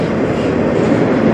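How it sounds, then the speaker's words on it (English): A CN freight train on the Strathroy Subdivision rolls past close by, a loud continuous rumble of wheels and cars with rhythmic clatter throughout. "this will be the sister train to the 491 that was just the last train"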